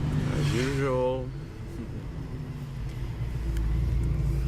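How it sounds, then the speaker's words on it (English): At Top Marques Monaco, a supercar engine revs and then settles into a low, rumbling exhaust burble among traffic noise, with people talking nearby. "Once again, crackles all over the place."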